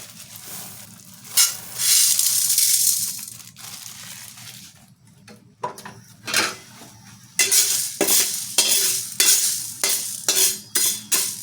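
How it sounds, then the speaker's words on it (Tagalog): Mung beans dry-roasted in a pan, with close, loud bursts of rattling and scraping as the beans are stirred and tossed against the metal, separated by quieter stretches of faint sizzle. "ang unang gagawin natin ay isasangag natin yung mga munggo beans"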